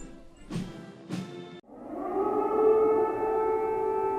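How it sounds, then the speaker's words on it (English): Two short bursts precede a steady, droning air raid siren near Kyiv at dawn that swells and holds, loud and alone. "Air raid sirens, gunfire, and explosions at dawn"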